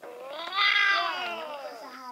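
A pet cat meows in one drawn-out, wavering call, loud and close, with no other sounds around it.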